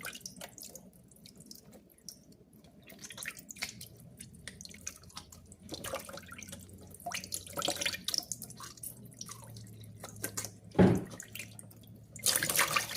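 Tap water runs and splashes while cleaned fish is rinsed of vinegar in a sink, an uneven close trickle with intermittent louder splashes and handling sounds.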